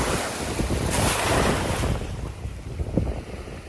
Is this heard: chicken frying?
no